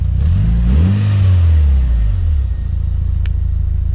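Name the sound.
car engine revving with new intake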